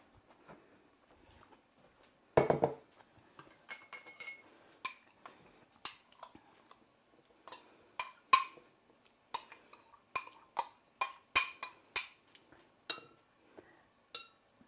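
Dishes and a spoon clink and knock in a kitchen while a serving dish is fetched: scattered sharp, close taps and one longer clatter, spread irregularly over about fifteen seconds with no talk.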